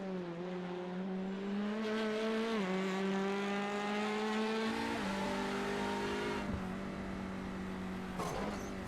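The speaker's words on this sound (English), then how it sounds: "You can just hear the cars bottoming out as they go down the hill." Race cars in a racing game plunge down the hill at Mount Panorama, their engines droning loud and steady with pitch shifts as they bottom out on the quick descent, continuous throughout.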